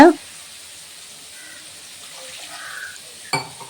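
Water pours steadily onto spice masala for tomato curry with a soft, even hiss, and a short clatter breaks in near the end.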